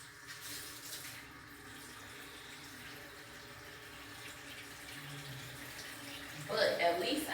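Water runs steadily from a tap into a sink that has no working hot water, a continuous hissing flow at moderate volume, getting briefly louder near the end.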